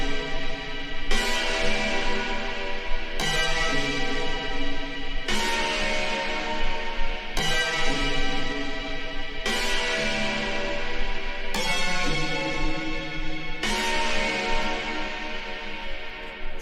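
Horn section riff from a track, leaping up and down an octave in punchy repeated stabs about every two seconds, loud and upfront with no talking.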